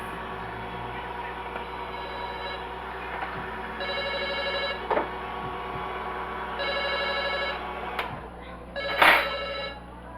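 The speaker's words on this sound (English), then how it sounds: "Excuse me, my phone is ringing." A mobile phone rings in a home kitchen during cooking, its repeated electronic ring bursts sitting fairly quietly over a steady background hum, with occasional clatter and brief speech.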